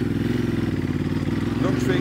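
Motorcycle engine revving steadily on the throttle during a rear-brake donut, a close, loud continuous drone that rises slightly toward the end, with someone talking over it.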